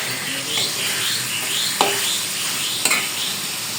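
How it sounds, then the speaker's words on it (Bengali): Koi fish and eggplant fry in hot oil in a village kitchen, with a steady close sizzle throughout and a couple of sharp stirring knocks against the pan. "বেগুন দিয়ে কই মাছটা ভাজি করে নিব"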